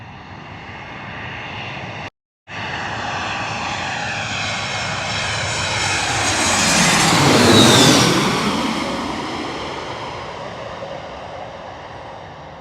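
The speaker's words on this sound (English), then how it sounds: "we got a JetBlue from New Orleans, Louisiana, an Airbus A320 coming on in right now." A JetBlue Airbus A320 landing at LaGuardia's runway 4 in Queens, New York: loud jet engine roar swells as the plane passes close overhead, with a falling whine, then slowly fades into a broad rumble.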